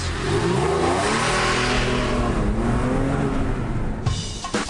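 A Porsche 4S or Audi R8, both four-wheel-drive sports cars, launching hard from a standstill, with a loud engine rising steadily in pitch under full acceleration before easing off.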